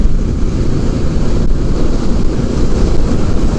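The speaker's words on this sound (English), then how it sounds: "it is windy out today" Strong wind roars against the microphone in a loud, constant low rumble, gusting steadily with no voices present.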